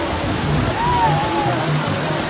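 River water rushes steadily at a village festival in Huari, Peru, a constant broad watery hiss with faint sloshing, while people talk over it.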